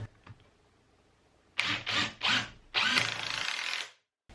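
Power drill driving 2.5 inch screws into a wood board: three short whirring bursts followed by a longer sustained drive that winds down, close and loud after a quiet start.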